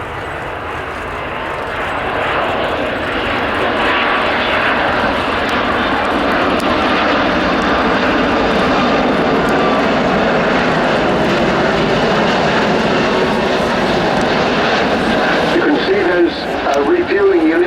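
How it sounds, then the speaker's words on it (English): Two Rolls-Royce jet engines on an RAF Airbus Voyager A330-200 tanker spooling up to full power at an airshow at Cosford, a loud, steady broadband roar that holds for the whole stretch, with a commentator talking over it. "there's full power coming on the two big Rolls-Royce"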